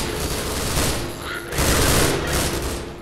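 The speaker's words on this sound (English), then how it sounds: "Another explosion." Explosions in the video game Half-Life 2 with the Cinematic Mod sound as a dense, roaring, rumbling blast that swells twice over a few seconds, loud and continuous with crackling debris and gunfire-like bursts.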